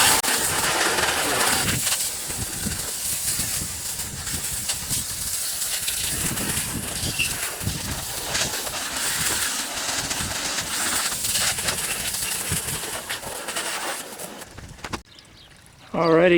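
Water is hosed over grease cutter on the engine of a 1998 Corvette C5, producing a steady, close splashing hiss with spray noise that keeps running, with someone talking over it, before cutting off near the end.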